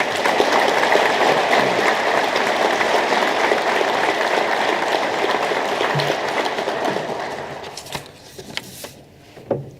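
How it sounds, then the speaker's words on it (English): A crowd at a police association ceremony applauds the families of officers, sustained thick clapping that thins and tapers off toward the end into scattered claps. "can we give them a round of applause who are here?"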